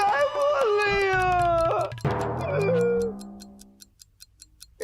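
A clock ticks in a steady, regular rhythm, faint and high-pitched, running under loud voices and music in a Hindi comedy scene.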